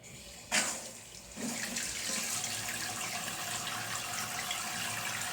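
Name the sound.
water running through toilet fill valve supply line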